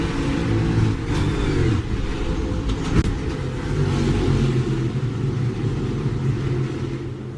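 Joey Logano's NASCAR stock car during a crash at Indianapolis: a loud, continuous engine roar and rumble with a sharp jolt near the middle, sustained throughout without talk.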